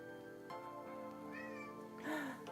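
A cat meows indoors, a few soft, rising meows over a faint steady background, ending in a louder, longer call.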